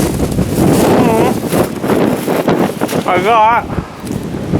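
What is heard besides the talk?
strong wind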